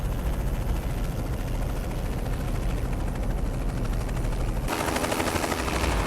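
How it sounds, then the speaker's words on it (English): A helicopter's rotor throbs loud and close throughout, a dense continuous thudding roar that brightens and grows harsher in the last second or so. "Get to the chopper!"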